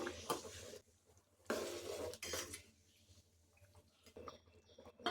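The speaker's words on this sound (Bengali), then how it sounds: "এখন যে মশলাটা গুঁড়ো করেছি সেটা এর মধ্যে দিয়ে দিচ্ছি। মশলাটা খুব ভালোভাবে মিশিয়ে নিতে হবে।" Ground spices stirred into kanika bhog, a sweet ghee rice, with a spoon scraping and clinking inside a metal pot in a few bursts separated by quiet pauses, close and soft.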